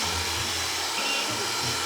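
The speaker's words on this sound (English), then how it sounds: "We're gonna be using the hand mixer with a pastry hook." An electric hand mixer fitted with a pastry hook runs steadily through fathead dough in a bowl, a continuous close motor whir with slight changes in load and no pauses.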